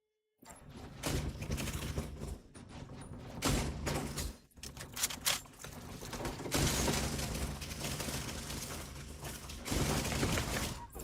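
Automated turret gunfire in The Division 2: dense, sustained bursts of rapid shots with clattering mechanical sounds, loud and continuous with short pauses between volleys.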